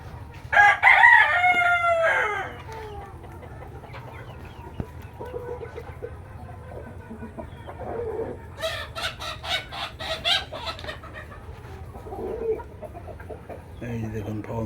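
On a farm, a Fayoumi rooster crows loudly and nearby, then a flock of Fayoumi chickens keeps up scattered clucking and squawks. A voice talks intermittently over the birds.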